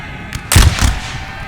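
Musket volleys crack out in a Napoleon: Total War battle, a brief loud ragged burst of shots over quiet background rumble.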